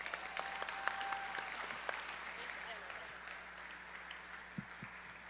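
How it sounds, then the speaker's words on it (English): Applause at a high school graduation ceremony in a large hall, heard faint and distant as a steady patter of many hands, with a few sharper nearby claps and some low background murmur. "let's give us a big round of applause"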